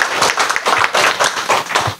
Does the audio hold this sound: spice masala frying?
no